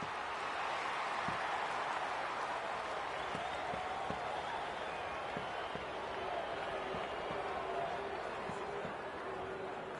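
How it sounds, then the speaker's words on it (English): Stadium crowd at an AFL football match between the Western Bulldogs and GWS Giants, a steady roaring wash of many voices filling the whole stretch, with scattered claps and thuds poking through the continuous din. "The crowd noise tells you all you need to know."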